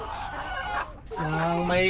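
Backyard laying hens raised for eggs cluck and call close by in a short burst, with a drawn-out crowing-like note toward the end.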